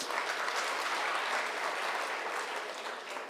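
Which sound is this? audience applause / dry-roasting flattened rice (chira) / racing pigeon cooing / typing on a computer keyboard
audience applause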